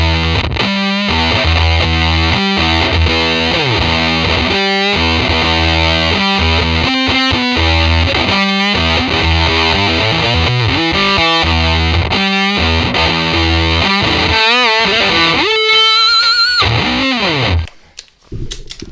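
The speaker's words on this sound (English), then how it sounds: "A lot of big, muffly, big muff tones for it." An electric guitar riff runs through a whammy, Big Muff fuzz and Phase 90 phaser: thick, loud distorted chugging notes in a choppy rhythm, ending in pitch-swooping squeals before cutting off abruptly.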